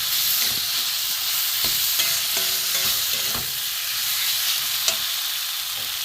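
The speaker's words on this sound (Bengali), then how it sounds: "আলু দিয়ে মশলাটা কষিয়ে নিয়েছি" Potatoes and spice paste sizzling steadily in a pan for a vola fish curry, a bright continuous fry with a few light scrapes and taps of stirring, close and unbroken, with no one talking.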